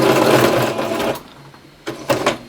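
A sewing machine runs in short bursts while stitching a patch onto a jersey, a close rapid mechanical whir for about a second, a pause, then two brief quick runs.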